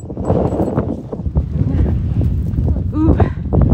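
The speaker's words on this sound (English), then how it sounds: "It's starting to get windier over here." Gusty outdoor wind buffets the microphone beside an Ames monument obelisk, a steady low rumble that fills the whole stretch, with indistinct voice sounds mixed underneath.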